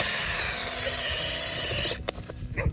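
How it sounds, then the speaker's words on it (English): A drill with an auger attachment whirs steadily as it bores planting holes into farm ground, then winds down and stops, followed by a few soft knocks and rustles. "I'm using my little auger attachment here for my drill."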